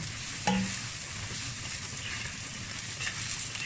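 Garlic stir-frying over medium heat until golden for a Thai dish of duck tongues with pickled mustard greens, a steady close sizzle with a spatula clink near the start and light scraping throughout.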